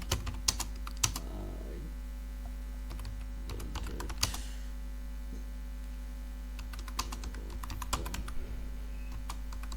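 Keys clatter on a computer keyboard as a short message is typed, quiet and close, in irregular bursts of clicks separated by brief pauses, with no talking.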